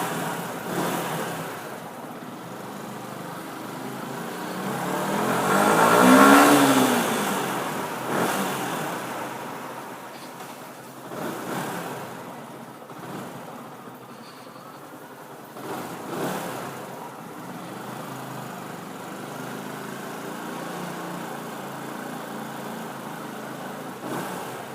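A Yamaha R125 motorcycle engine revs up in a single rising and falling burst near the start, then settles to a rough idle with small throttle blips, fairly loud and close against outdoor background noise.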